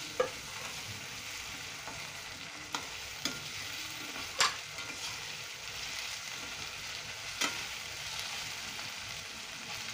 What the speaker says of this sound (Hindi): अभी डालेंगे अदरक लहसुन और एक हरी मिर्ची है उसका पेस्ट।